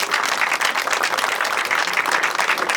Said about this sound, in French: may I ask to you if it's possible to stand up and applaud family Stamson